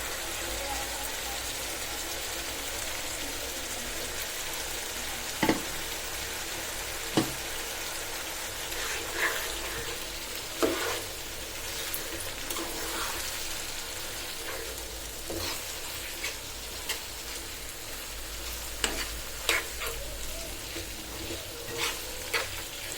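Spiced fish roe hits a pan of frying potatoes, setting off a loud, steady sizzle with a few sharp clinks and scrapes of stirring scattered through it, and no one speaks.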